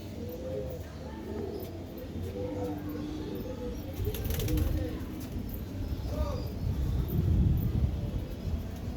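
Pet pigeons of the Malbai and Madras breeds coo in low, repeated throaty phrases through the whole stretch, moderately close, with someone talking over them in places.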